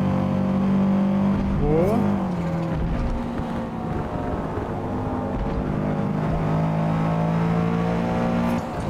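Subaru STI race car in the Forza Motorsport racing game, engine droning loud and steady with rising revs as it accelerates down a straight, under brief excited talk.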